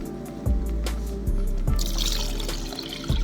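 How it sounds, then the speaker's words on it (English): Water is poured into dry cooked dal in a pot while making vegetable sambar, a steady close pour with a few splashy bursts and gurgles. "so now I will add the water."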